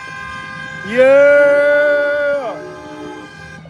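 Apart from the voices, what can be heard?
car horns honking during a street procession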